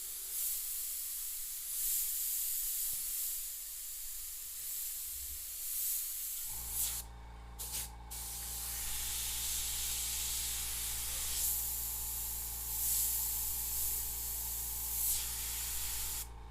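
An airbrush spraying custom paint, first a soft, faint hiss that turns into a steady, louder continuous spray with brief breaks, close and alone.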